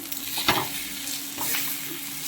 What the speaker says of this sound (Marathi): 3 अंडे टाकले त्याच्यात